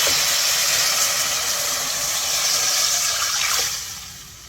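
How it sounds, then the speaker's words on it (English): Broth made from bouillon base is poured into a cooked flour roux in a pot, giving a steady, continuous splashing gush that tapers off at the end, with no talk. "Okay, now I'm going in with my broth."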